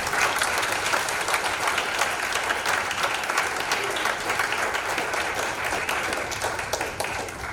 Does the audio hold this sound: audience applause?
yes